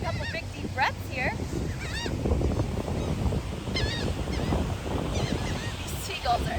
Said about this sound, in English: These seagulls are insane.